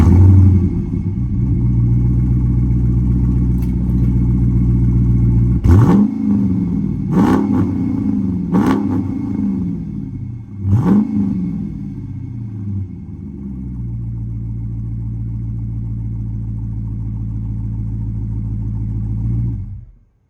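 A Dodge Charger fitted with a new exhaust tip idles with a deep steady rumble, then four sharp revs rise and fall in quick succession before it settles back to a loud idle and shuts off.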